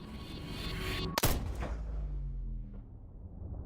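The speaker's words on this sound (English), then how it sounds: "I don't like hearing gunshots" A single loud gunshot in Ace Combat 7: Skies Unknown cracks sharply, then a booming echo rolls away and fades over a low rumbling backdrop.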